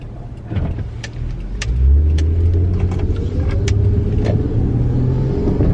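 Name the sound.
car passing by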